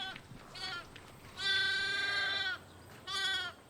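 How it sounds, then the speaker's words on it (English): Single ewes on a New Zealand farm bleat close by, giving several wavering calls. The longest runs about a second, and quieter baaing and rustling sit between the calls. "So these are single ewes"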